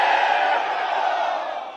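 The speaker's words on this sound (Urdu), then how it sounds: "نعرے بھٹو۔" A large crowd at a Pakistan Peoples Party workers' convention in Timergara, Lower Dir, roars a political slogan in unison, a loud, dense chant that swells at first and then slowly fades.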